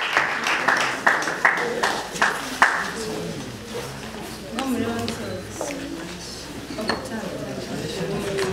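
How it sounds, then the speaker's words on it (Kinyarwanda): A church congregation claps at a pastor's installation service: a run of quick, evenly spaced claps for about three seconds, then a voice speaking over scattered clinks and softer claps. "Reka tubahe amashyi menshi cyane"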